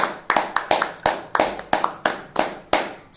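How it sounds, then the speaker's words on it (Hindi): A handful of people clap unevenly at an online public speaking competition result announcement, about a dozen sharp, separate claps spread over a few seconds, close and fairly quiet. "जोरदार तालियां हो जाती लाउत्रे के लिए"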